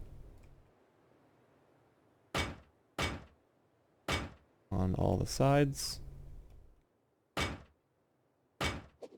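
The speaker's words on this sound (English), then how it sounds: "You can come over here and, like I said before, place your doors" Doors placed one after another on a base in the survival game Rust, each landing with a sharp wooden thunk, about seven spaced hits plus a longer creaking swing mid-way, close and clear, with someone talking between them.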